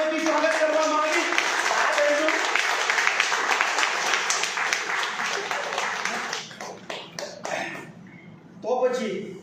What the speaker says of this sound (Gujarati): હું એકવાર જોરદાર પાછું તાળીઓથી સ્વાગત કરવા માંગીશ